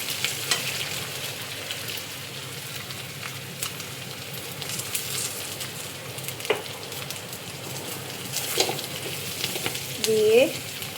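Whole cumin seeds fry in hot oil, giving a steady close sizzle throughout with occasional stirring clicks and a brief louder scrape near the end, without speech.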